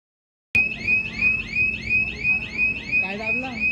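Store security alarm at a Zudio clothing shop sounding a steady, repeating high electronic tone that pulses rhythmically and continuously at close range, with faint voices briefly underneath near the end.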